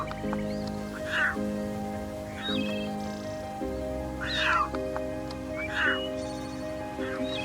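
Newborn lion cubs lying in dry straw beside an adult female give thin, wavering mewing cries, repeated roughly every second over a steady low hum.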